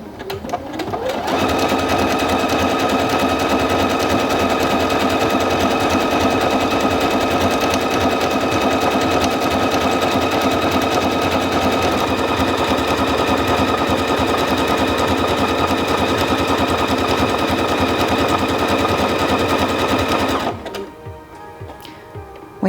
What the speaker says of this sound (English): And now we're ready to sew stitch number 27.